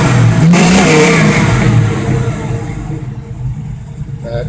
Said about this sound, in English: That heat shield's making noise.